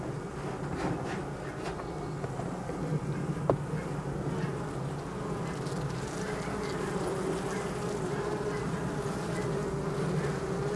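Steady, dense buzzing of many honey bees around a hive being lightly smoked, continuous and fairly close, with a faint crackle of background noise.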